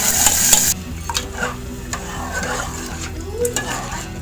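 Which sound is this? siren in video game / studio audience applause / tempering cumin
tempering cumin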